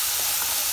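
Frying in a pan with a little oil, cooking for an aloo bread sandwich, gives a steady close sizzling hiss that fills the short moment with no talk.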